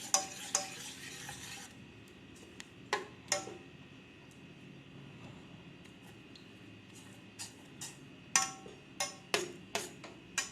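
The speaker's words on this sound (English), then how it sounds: "Keep on stirring so that it doesn't stick to the bottom of your pan" A spoon scrapes and clicks around a pan of boiling milk with khoya in irregular strokes, with a soft bubbling hiss underneath.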